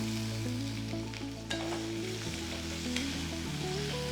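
Onion, cashews and chopped tomato sauteing in a pan for paneer lababdar, a close, continuous sizzle with a couple of clinking stirs, set against a steady low background hum; no one speaks.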